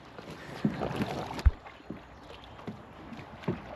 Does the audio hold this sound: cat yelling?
no